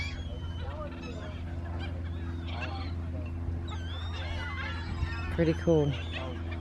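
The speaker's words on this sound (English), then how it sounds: "Birds, birds." A flock of geese honks at sunset, repeated nasal calls overlapping at a moderate distance over a steady low hum, with a few louder honks near the end and a person briefly speaking.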